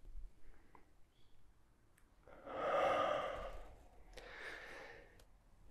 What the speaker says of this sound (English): Inhale here, exhale here.